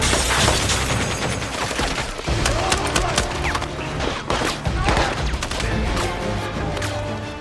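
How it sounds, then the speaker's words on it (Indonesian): Dense bursts of gunfire crackle through a film action scene as gunmen shoot at local police, with rapid overlapping shots and crashes under a steady loud mix. "anak buah Hansen terus berdatangan menembaki semua polisi lokal dan juga Sik"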